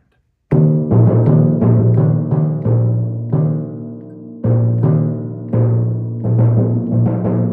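Timpani played through an exercise line with rolls, beginning at mezzo forte: a series of sustained, resonant rolled notes that shift in pitch, each entering with a fresh attack and ringing on its own.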